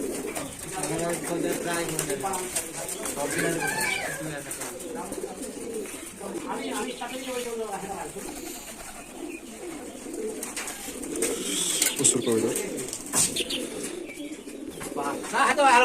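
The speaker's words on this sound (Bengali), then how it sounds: "কবুতর তো বাজি মারছে খুব" Giribaj pigeons kept by a longtime fancier coo in repeated soft, rolling calls close by, with someone talking over them.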